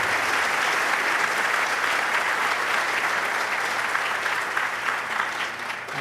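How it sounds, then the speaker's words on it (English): A large audience claps steadily for award recipients at an academic awards night in an auditorium, dense sustained applause throughout with no voices over it, tapering slightly at the very end. "One more big round of applause for all our recipients tonight."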